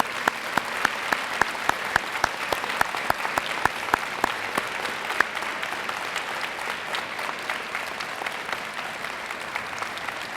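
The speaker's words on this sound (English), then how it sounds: "Let's give these brave ladies and gentlemen a round of applause." Audience applause fills a school gymnasium at a Veterans Day ceremony, dense steady clapping that starts with sharp individual claps and settles into a continuous roar for about ten seconds, with no talk over it.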